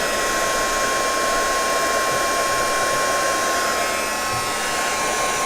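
A hair dryer blowing steadily on paper craft pieces for a mini album, a loud, constant whirring hiss with no breaks.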